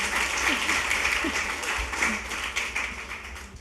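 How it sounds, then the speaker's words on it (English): Audience applause at a literary festival interview fills the space, a steady wash of many hands clapping, with some faint voices mixed in. "let's give her another round of applause for that"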